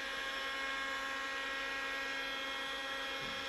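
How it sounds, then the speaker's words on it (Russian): A 2 kW Interskol heat gun on its maximum setting, stripping paint from a VAZ 2102, gives a steady, high-pitched electric whine with a constant motor hum, unbroken, close and moderately loud, with no voices. "Фен на 2 киловатта."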